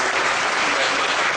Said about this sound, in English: Can we have some claps, please, for his time?